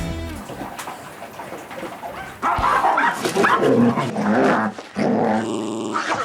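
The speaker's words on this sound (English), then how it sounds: "This is the sound of happy dogs eating." Dogs growl and snuffle over food, with wet chewing and jostling noises that grow louder partway through, close by and continuous.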